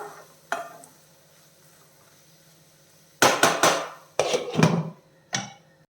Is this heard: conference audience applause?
no